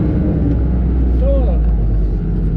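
An IHC 844 tractor engine runs close by with a steady, loud low drone at an even pace; a voice may briefly sound beneath it.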